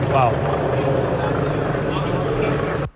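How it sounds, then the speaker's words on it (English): A helicopter flies overhead above a street riot in England, making a steady loud rotor drone that fills the scene while a man reacts briefly with speech over it. "that noise you can hear is still the helicopter that's flying above"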